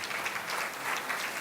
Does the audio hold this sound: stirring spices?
no